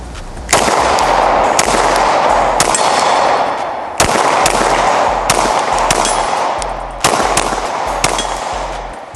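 Three bursts of rapid gunfire ring out loud and close during a timed shooting drill, each volley a dense run of sharp cracks separated by brief pauses, aimed at near and far targets.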